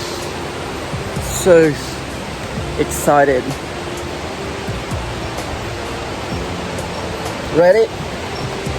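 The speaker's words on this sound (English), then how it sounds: "I already can hear it really clearly. That's the river and the waterfall" A steady broadband roar of a river and the Tumpak Sewu waterfall in East Java fills the scene without pause, with short bursts of speech rising over it now and then.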